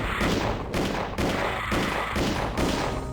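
Doom 2's chain gun fires in rapid, loud bursts of punchy shots that repeat almost without pause, close up and with no voices.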